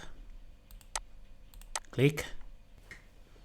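Several sharp mouse clicks spaced across a quiet room while someone speaks briefly, his voice rising in the middle; the clicks are close and crisp.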